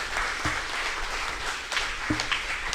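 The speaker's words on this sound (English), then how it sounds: "I want to ask all of you to give him a very special round of applause." A gathering applauds a birthday celebrant at a 50th birthday devotional gathering, with steady, moderately distant clapping and a couple of sharper thumps.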